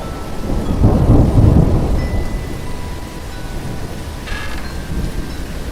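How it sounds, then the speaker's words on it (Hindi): Loud, steady rain pours down while a deep rumble of thunder rolls through, swelling and then fading away. "उसने देखा कि बाहर बहुत तेज बारिश हो रही थी।"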